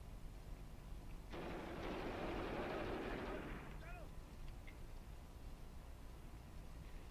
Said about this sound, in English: And my MG42 is opening up at something as well.